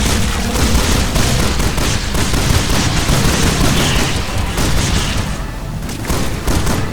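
Gunfire and explosions in the video game Resident Evil 6 make a dense, loud barrage of rapid shots and booming blasts that continues without pause.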